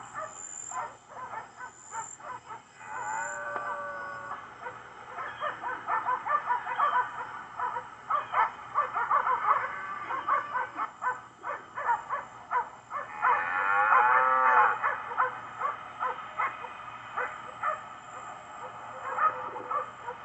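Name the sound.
cow dogs baying while stopping a herd of cattle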